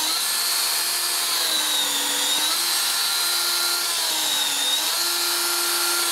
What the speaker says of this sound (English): drill these holes, stag them, roughly 4 inches or so